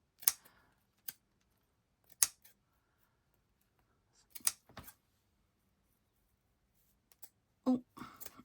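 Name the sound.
scissors trimming lace for a junk journal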